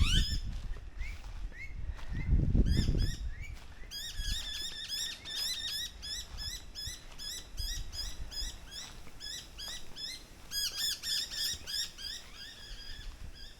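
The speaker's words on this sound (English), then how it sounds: "See how noisy those birds are. They are minor birds." Noisy myna birds call outdoors, giving a long run of rapid, repeated chirping notes that rise and fall in busy bursts, close and fairly loud over faint background rustle.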